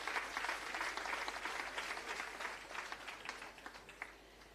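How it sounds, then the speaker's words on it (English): Audience applause at a Jamaica Civil Service long service awards ceremony, a sustained round of clapping from a crowd, fairly distant and faint, thinning out toward the end. "Give him a round of applause, please."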